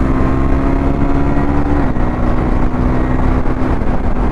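A tuned KTM Duke 390 with a single-cylinder engine runs steadily and loudly up close, a constant engine drone filling the clip; small exhaust pops are not clearly separable from the running engine.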